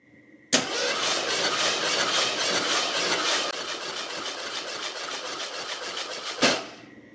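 An old Ford LTD abandoned for 28 years cranks continuously for about six seconds during a compression test without starting: a loud, steady, rhythmic starter-motor churn that begins and stops abruptly, with no voices.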